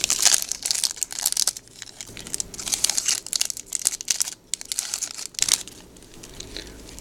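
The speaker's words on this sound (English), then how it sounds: "pack number 2, opening Topps Museum collection trading cards" A 2018 Topps Museum Collection baseball trading card pack is torn open with loud, close crinkling and crackling of the wrapper in irregular bursts and short pauses.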